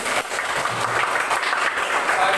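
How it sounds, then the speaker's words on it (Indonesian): An audience applauding after student presentations, dense continuous clapping from many hands, steady and fairly loud throughout, with no talking. "berikan aplaus untuk kalian semuanya"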